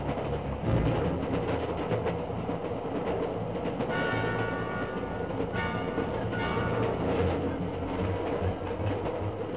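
A train rumbles past steadily with rhythmic clacking of wheels on rails, loud and continuous throughout.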